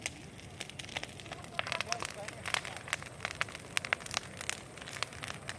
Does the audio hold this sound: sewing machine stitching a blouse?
no